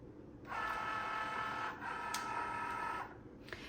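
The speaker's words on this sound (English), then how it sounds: "we want to add that to our Cricut Joy" A Cricut Joy cutting machine draws in a mat with a steady whirring motor drone that runs for about two and a half seconds with a brief dip midway, followed by a faint click.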